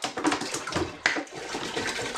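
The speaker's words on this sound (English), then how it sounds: "Let's put another 5 litres of water in there." Water is poured into a home-brewing pan, a splashing, gurgling stream with a brief sharp knock midway, fairly close and moderately quiet.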